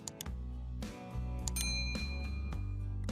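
Bright bell chime used as a notification sound effect, ringing out over a steady bed of background music, with a sustained high ring after the strike and no voice.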